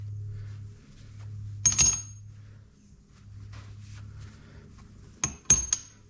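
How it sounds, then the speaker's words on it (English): Half-inch square high-speed steel tool blanks clink against each other and metal in a machine shop vise setup, two short bright metallic contacts several seconds apart over a low steady hum. "I got a couple of half-inch square high-speed steel tool blanks I'm going to use as parallels right now"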